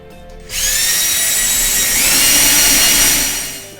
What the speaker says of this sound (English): So now you drill into the tape